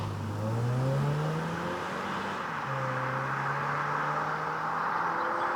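A 2024 facelifted Mazda 3 drives and accelerates, its engine note rising steadily through the gears from inside the cabin, with a shift and renewed pull, steady road noise beneath and no talk.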